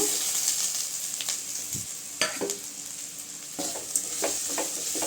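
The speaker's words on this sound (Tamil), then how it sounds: "போட்டு நல்லா கலந்து விட்டுக்கலாங்க" Fried bread pieces being stirred into a sizzling tomato masala in oil, with a continuous crackling sizzle and repeated scraping, clattering stirring strokes close by.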